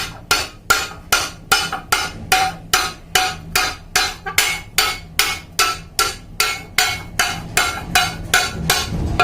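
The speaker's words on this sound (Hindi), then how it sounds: "बहुत ज्यादा नहीं मारना है, बहुत हल्की हल्की बराबर हथौड़ी गिराते जाना है" A hammer taps lightly and evenly on a metal shutter strip, about two sharp metallic strikes per second in a steady rhythm, close and clear with no talking.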